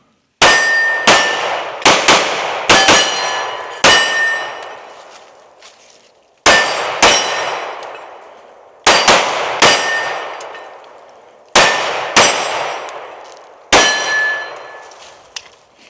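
Canik Mete MC9L 9mm pistol fired outdoors in loud, sharp cracks, mostly in quick runs of two to four shots separated by short pauses, each crack trailing into a brief echo.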